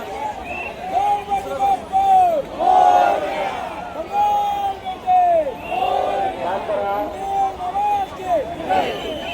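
A dense crowd presses around the arrival gate for the Kalachowki Mahaganpati Ganpati idol in Mumbai, with loud excited shouting and babble, and an amplified voice calling out over the noise.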